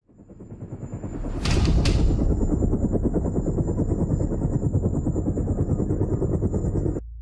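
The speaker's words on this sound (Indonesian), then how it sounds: "Benar-benar ada helikopter." A helicopter arrives with a loud, steady rotor thrum that builds from the start and holds for about seven seconds, punctuated by two sharp bangs early on, with no talking.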